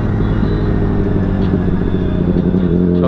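A car engine roars loudly and close up throughout a short burst of rev bombing, a dense, continuous growl with no talking over it.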